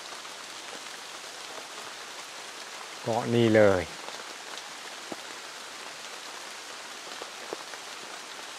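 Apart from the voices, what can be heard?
rain falling in the forest with mist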